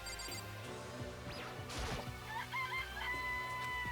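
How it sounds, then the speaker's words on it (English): Chickens and a rooster in Danganronpa: Trigger Happy Havoc crow and cluck over steady game background music, with a sharp crash partway through. "This place even has chickens, huh?"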